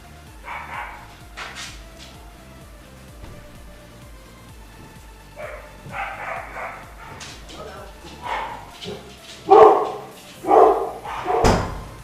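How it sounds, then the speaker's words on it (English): A dog barks and yips in short bursts, several of them louder toward the end, while someone talks over it. "We got to deal with the dog situation here."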